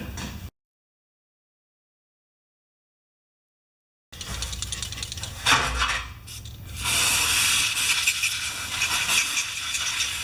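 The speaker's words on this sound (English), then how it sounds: "and get some carburetor spray" After several seconds of silence, a steady hissing spray of carburetor cleaner starts on a Poulan Pro carburetor and continues loudly, with some rubbing and rattling noises mixed in.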